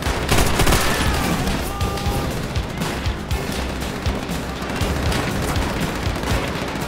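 Sustained loud automatic gunfire rattles on in Call of Duty: World at War, rapid bursts layered with other shots and heavy thumps, continuous for about seven seconds without speech.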